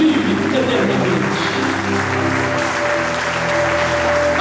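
A church congregation at a Feast of Tabernacles service applauding together, a steady wash of clapping mixed with voices and sustained musical tones, fairly loud and continuous.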